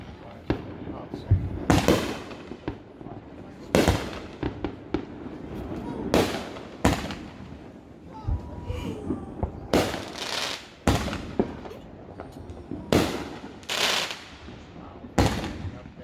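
Fireworks burst over Adams Lake in a steady series of loud, sharp booms and crackles, some near and some farther off, while people chat in the background.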